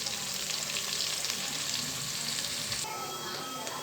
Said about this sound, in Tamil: இது வெங்காயம் வதங்கி வரட்டும்.